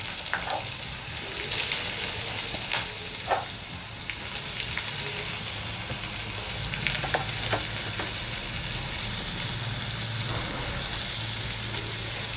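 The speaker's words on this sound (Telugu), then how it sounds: "మనం ఆనియన్ని బాగా వేయించుకోవాలి." Chopped onions and green chillies sizzle and crackle in hot oil in a pan, a steady frying hiss with occasional stirring scrapes, close and continuous.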